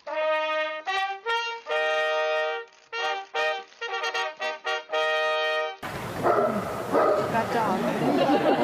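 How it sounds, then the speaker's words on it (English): A dog yips and barks in a quick run of sharp, high calls with short gaps for several seconds, then a crowd's chatter takes over. "That dog."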